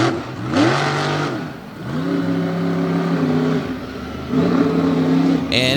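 A monster truck called Stinger Unleashed at an all-star monster truck show, its engine running rough, revving up and dropping back in uneven surges with loud harmonic growl and crowd-like background noise throughout.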